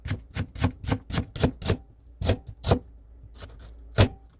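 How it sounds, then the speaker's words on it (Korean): Kitchen knife slicing a quarter onion into thin julienne strips on a cutting board: a quick run of about a dozen crisp, close chops, thinning into a few spaced strokes near the end. "양파 4분의 1개를 가늘게 채 썰어주세요."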